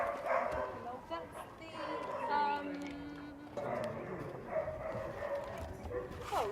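Dogs at an animal rescue shelter in Qatar yip, whimper and bark in short bursts, mixed with people talking nearby.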